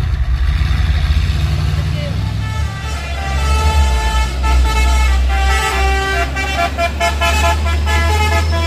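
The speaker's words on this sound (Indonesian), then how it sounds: "3 truk angkutan sepeda motor" Three heavy trucks carrying motorcycles rumble along a busy road, engines droning steadily, with a few horn toots over the traffic noise.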